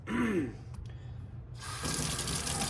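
Tap water runs into a sink while an oil paint brush is washed with soap, a steady hiss that pauses briefly and then resumes stronger, with a short voice sound at the start.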